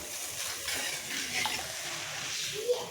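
Water added to a pabda fish curry masala as the gravy heats toward a boil, a steady soft sizzle and bubbling hiss close by at low level, with no voices.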